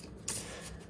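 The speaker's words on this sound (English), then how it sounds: "let me shuffle them in front of the camera here so you can see them" Tarot oracle cards are shuffled once in a quick, soft riffle, close and quiet, over faint room hiss.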